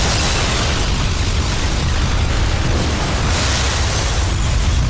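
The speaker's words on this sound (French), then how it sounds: "On a le droit maintenant à une explosion de série B." A loud, sustained explosion roar from the film Raptor Ranch (2013), broadband and rumbling, filling the whole stretch without pause.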